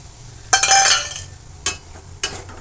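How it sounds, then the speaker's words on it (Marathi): Semolina (rava) roasting in a kadai over a medium gas flame, stirred with a spoon: a few scraping, sizzling stirs, the first one long and loud, then two shorter strokes, with no talk. "मीडियम गॅसवरतीच आपण भाजून घेणार आहोत"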